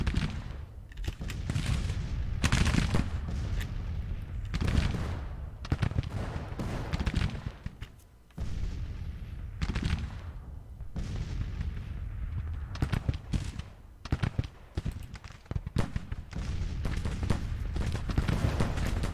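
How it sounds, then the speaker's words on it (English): Dense artillery booms and rolling musket and rifle volleys from a Civil War battle at Antietam in the video game Grand Tactician: The Civil War, a continuous loud barrage with many overlapping shots and heavy low rumbles. "Let's finish off Ewell's artillery"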